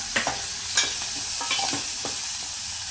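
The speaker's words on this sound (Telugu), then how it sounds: "ఉల్లిపాయ ముక్కలు అయితే వేసేస్తున్నాను." Onion pieces, about a cup, frying in oil in a pan while being stirred, with a steady close sizzle broken by several short scraping stir strokes.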